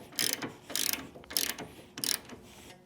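Ratcheting wrench tightening a nut onto the shaft of an adjustable Harley-Davidson motorcycle foot control, heard as four close bursts of rapid clicking with short pauses between, no talk.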